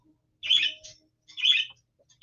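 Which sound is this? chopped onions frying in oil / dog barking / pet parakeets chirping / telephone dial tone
pet parakeets chirping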